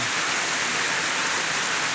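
Steady, dense rain pours down without a break, a loud even hiss that stays constant throughout.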